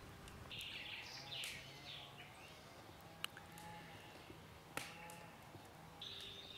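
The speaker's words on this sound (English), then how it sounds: "I think you can almost hear the birds singing in the background" Faint birdsong chirps and trills drift in the distance at a quiet outdoor pottery pit-fire, under a low steady background hum with a couple of sharp clicks.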